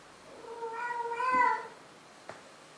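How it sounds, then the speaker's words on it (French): A female cat in heat gives one drawn-out, wavering meow that swells and fades over about a second, close and fairly clear, followed by a faint click in a quiet room. "elle fait des miaulements de merde là comme ça pendant la nuit"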